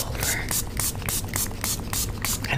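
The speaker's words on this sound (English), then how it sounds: "what I do is I just kind of like spray it all over" Water misted from a spray bottle onto a wig, a rapid series of about ten short hissing spritzes in steady rhythm, close to the microphone over a low background hum.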